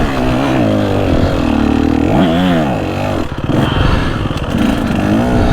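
A KTM 150 SX two-stroke dirt bike being ridden, its close, loud engine revving up and down in repeated surges, with clatter and scraping as it moves.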